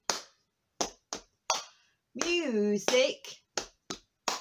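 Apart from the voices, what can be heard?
tapping knees and clapping hands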